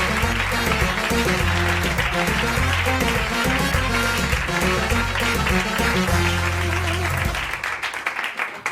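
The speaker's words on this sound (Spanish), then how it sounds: "Así que un aplauso para pedirle disculpas a Ingrid García Johnson" A studio audience at a Spanish television show claps steadily and loudly for several seconds, a dense continuous applause over a rhythmic musical backing, tapering slightly near the end.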